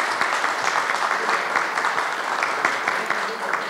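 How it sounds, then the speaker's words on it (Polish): Applause fills a municipal council session of the Rybno commune, a dense, steady patter of many hands clapping at moderate loudness for several seconds without pause. "Wielkie brawa"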